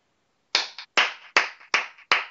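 Five sharp hand claps in an uneven rhythm ring out close and loud after half a second of silence, each followed by a short echo tail.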